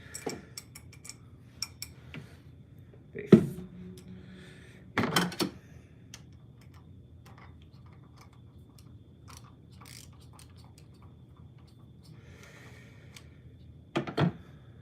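A screwdriver turns tight, precisely machined screws while a 49-inch ultrawide monitor is wall mounted, giving sparse ratcheting clicks and a few sharper bursts of mechanical clatter separated by quiet pauses, with no talking.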